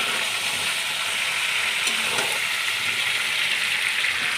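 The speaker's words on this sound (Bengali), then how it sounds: "চিকেনটা আমার এইভাবে ভেজে ভেজে নিয়েছি" Chicken pieces marinated with salt fry in white oil, making a steady, dense sizzling hiss that stays even throughout.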